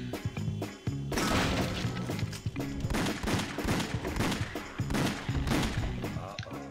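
Rapid bursts of gunfire from the Wii shooter House of the Dead Overkill, loud and dense, with fusillades and smashing impacts layered over game music throughout.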